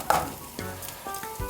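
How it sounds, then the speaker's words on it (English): Water for rice comes to a boil in a pot, a busy, bubbling sizzle with scattered pops and soft clinks, close and moderately loud without talk. "So my water is boiling"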